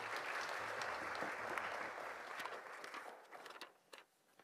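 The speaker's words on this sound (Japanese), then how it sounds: "今一度大きな拍手をお送りください" Warm applause at an award ceremony for an advertising copy prize at Toranomon Hills, a dense, steady clapping crowd that slowly thins and fades toward the end.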